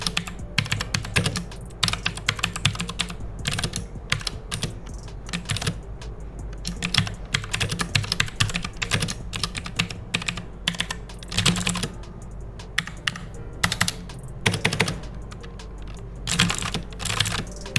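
Rapid, loud clacking keystrokes on a Cosmic Byte Firefly mechanical RGB keyboard, typed close up in dense irregular bursts with no talking.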